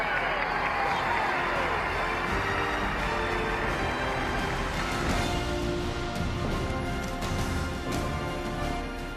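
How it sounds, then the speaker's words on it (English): A vast crowd of thousands cheers on victory day at the end of World War II, a dense, roaring wash of voices with some clapping, heard on old archival audio. "Listen to the crowd."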